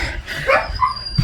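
A pet dog indoors lets out a few short, sharp yips and barks close by, with brief whiny edges between them.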